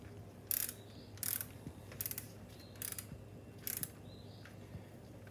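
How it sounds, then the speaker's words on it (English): A torque wrench ratchets bolts down on a Mercury 135 BlackMax outboard fuel pump: five short, faint clicking bursts at a steady, even pace over a quiet background. "we're going to go ahead and torque this down"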